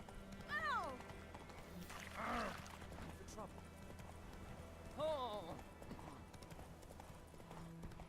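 Roach, the horse in The Witcher 3, galloping in a steady clip-clop of hooves, with two high whinnying neighs rising above the rhythmic beat, heard fairly close but at low volume.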